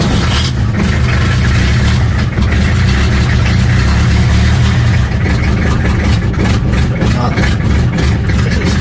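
Diesel engine of a Peugeot 504 pickup running at a steady fast idle, a loud, close, continuous low rumble that never lets up.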